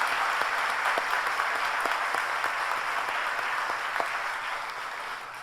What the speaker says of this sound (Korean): 감사합니다라고 감사의 박수